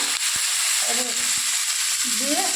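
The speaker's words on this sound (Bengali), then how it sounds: "পেঁয়াজ আর একটা ছোটো ছোটো করে আলু আমি কেটে নিয়ে কড়ার মধ্যে দিয়ে দেবো" Potatoes, onion and green chilli frying in a wok give a continuous sizzle, with a few clicks of stirring and faint voices underneath.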